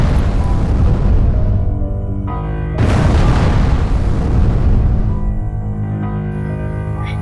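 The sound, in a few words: meteorite explosion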